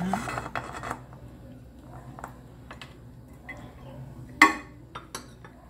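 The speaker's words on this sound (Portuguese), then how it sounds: "vamos iniciar colocando os morangos na panela" Soft clinks and rattles of strawberries dropping into a metal pan for strawberry jam, with one sharper clatter near the end, in a quiet kitchen.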